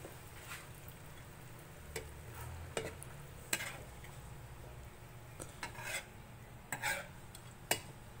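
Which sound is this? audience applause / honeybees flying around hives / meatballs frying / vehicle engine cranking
meatballs frying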